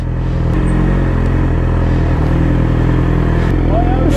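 A Yamaha R6 motorcycle engine idles loudly and steadily nearby, a deep continuous rumble throughout, with a few faint clicks over it.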